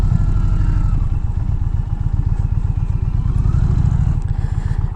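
An Indian Challenger motorcycle rolls over gravel and sand on a slight downhill, its loud, steady low engine drone and rhythmic rumble filling the clip with faint clatter from the loose surface and no speech.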